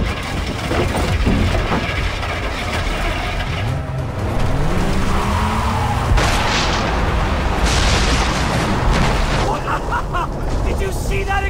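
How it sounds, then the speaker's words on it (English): An explosion in the video game Far Cry 3 booms over continuous rumbling action noise, loud and close, with heavy low-end crashes and excited voices shouting nearby. "Did you see that explosion?"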